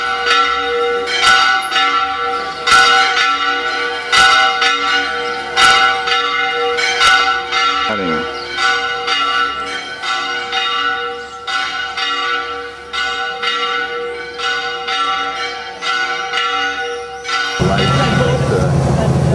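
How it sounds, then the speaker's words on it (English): Church bells peal repeatedly in an irregular run of overlapping strikes with a ringing sustain, loud and continuous, ending in a wash of broadband noise, on the Camino de Santiago between Pamplona and La Rioja. "Church bell ringing, I think."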